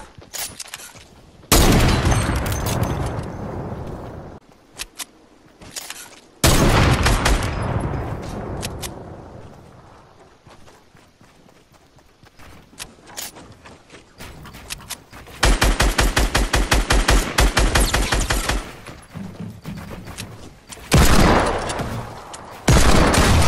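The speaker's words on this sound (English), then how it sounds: "Oh, I sniped one headshot." Gunfire in a sniper-focused shooter game comes in loud, sharp bursts and rapid volleys, some long reverberant blasts and some fast strings of shots, separated by short pauses.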